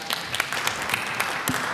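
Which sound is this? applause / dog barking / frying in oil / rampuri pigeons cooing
applause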